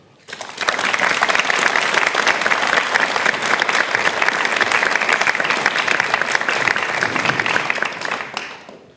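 An audience welcomes a speaker to a political-party talk with loud, dense clapping. The applause starts after a brief pause, holds steady for about eight seconds, then fades.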